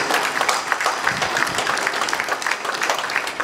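Sustained audience applause at a political convention, a dense patter of many hands clapping at steady volume from a large indoor crowd, with no talking over it.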